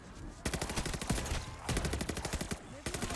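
Rapid bursts of machine pistol fire in a video game crackle in dense, fast volleys, with short pauses between strings of shots; loud and close throughout.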